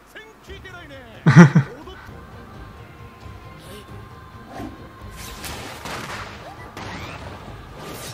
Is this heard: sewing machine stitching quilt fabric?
no